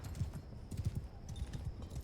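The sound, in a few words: horse hooves clip-clopping in a video game (Eagle Rising Spartacus)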